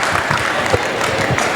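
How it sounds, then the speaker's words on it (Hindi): Loud audience applause at a live music event, continuous close clapping that fills the whole moment with a faint murmur of voices underneath. "मैं चाहूंगा एक बार इनके लिए जोरदार तालियां बजानी।"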